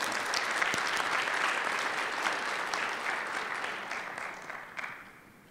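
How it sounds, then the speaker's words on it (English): Dense, steady applause fills a conference hall at IEEE VIS 2022 as an audience thanks a presenter, many hands clapping at an even, fairly loud level before tapering slightly at the end. "Let's give our speaker a round of applause."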